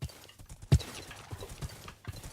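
Hoofbeats of a saddled horse in Minecraft, a few soft clip-clop steps spread across the moment with one sharper thump, fairly faint over a quiet game background.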